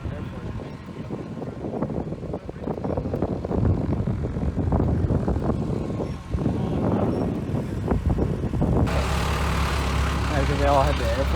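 A Lone Star TBM Avenger with a big round radial engine rumbles at an airport ramp, low and steady, its drone swelling and shifting under talking voices, with a brighter rush of noise near the end.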